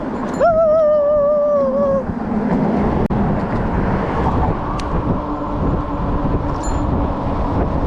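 Street traffic rumbles steadily in the background with a passing car or two, heard from an e-bike ride through town. A loud, sliding whistle-like tone sounds near the start, and faint voices come through at times.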